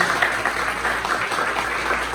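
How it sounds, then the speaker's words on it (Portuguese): Dense, continuous applause from a church congregation, steady and loud throughout with no pauses and no voices standing out. "gostaria que a primeira coisa que nós dessemos uma salva de palmas a Cristo Jesus"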